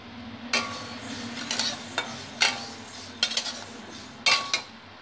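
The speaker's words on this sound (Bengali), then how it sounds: "গ্যাসে শুকনো কড়াই চাপিয়ে দিয়েছি, মুগ ডালটা দিয়ে দেবো। মুগ ডালটা দিয়ে একটু ভেজে নেব।" Mung dal dry-roasting in a hot, dry wok while being stirred, giving intermittent scraping and rattling bursts of lentils and spoon against metal over a faint steady hiss, with no talking.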